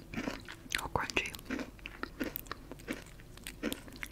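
Crisp bites and crunching on edible crystal candy with a rock-candy texture, close-up ASMR-style chewing in repeated sharp crunches, with faint voice sounds between bites.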